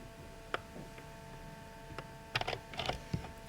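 A HiTi photo printer being cabled up and switched on: scattered sharp clicks and small plastic knocks, then a short cluster of mechanical clicking and whirring near the end, faint and close in a quiet room.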